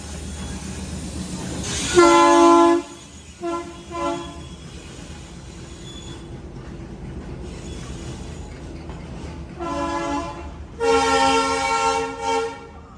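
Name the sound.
train horn honking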